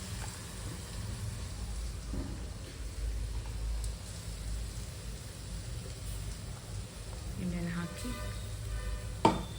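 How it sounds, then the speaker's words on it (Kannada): Cashews and green chili paste fry in oil with a soft, continuous sizzle, fairly quiet. A short clatter of a utensil comes near the end. "ಗೋಲ್ಡನ್ ಬ್ರೌನ್ ಆದಮೇಲೆ ಗೋಡಂಬಿ, ಪೇಸ್ಟ್ ಮಾಡ್ಕೊಂಡಿರೋ ಹಸಿಮೆಣಸಿನ್ಕಾಯಿನ ಎಣ್ಣೆಯಲ್ಲಿ ಹಾಕಿ"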